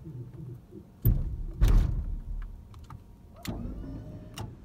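An electric actuator raises and lowers a homemade truck-mounted snowblower with a motorized whir, punctuated by several heavy mechanical thunks and clunks, close by and with no talking.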